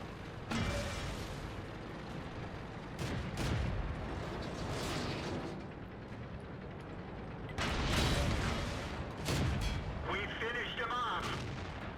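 Artillery rounds from World of Tanks boom in scattered heavy bursts amid ongoing battle noise, with a few louder impacts standing out, and a player talks over the action.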